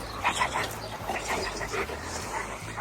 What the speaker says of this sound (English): The dogs say hello, play a bit.